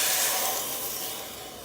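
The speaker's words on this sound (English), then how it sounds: "and now we're going to add the water." Water poured into a hot pot of sautéing rice bursts into a loud, close steam hiss that stays broad and steady, easing slightly as it settles.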